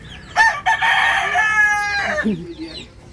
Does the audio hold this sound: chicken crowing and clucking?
yes